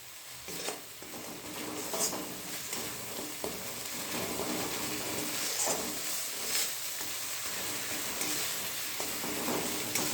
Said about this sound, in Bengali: লঙ্কার গুঁড়ো আর সামান্য জিরের গুঁড়ো দিয়ে এবার মশলাটা আমি ভালো করে কষিয়ে নেব